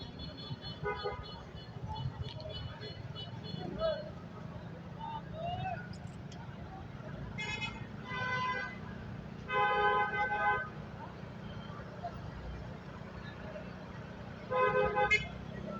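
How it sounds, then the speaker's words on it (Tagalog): Heavy road traffic rumbles steadily while car horns blare in several short bursts, some as repeated toots and others as longer honks, with people talking over the steady hum of vehicles. "Dito na yung isa sa sinasabi kong traffic."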